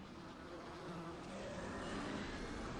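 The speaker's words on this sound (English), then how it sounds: "he's shooting bees from his mouth" Swarm of bees in the video game Dead Rising 3, a dense continuous buzzing drone that stays loud and steady throughout, filling the scene with no speech over it.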